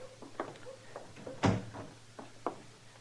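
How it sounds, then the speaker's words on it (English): A door shuts in a Gunsmoke western radio drama, a single sharp thud standing out amid soft footsteps and light knocks in a quiet room, with no one speaking. "Close the door, Chester."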